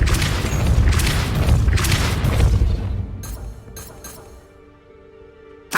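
A Depulso spell cast in Hogwarts Legacy lets out a loud booming blast that rumbles on for a few seconds, then a few sharp clinks and cracks of debris fade into a quiet tail.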